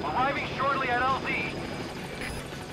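The Pequod helicopter arrives in Metal Gear Solid 5 with a whirring rotor drone and wavering engine whine, partly under a voice and game sounds.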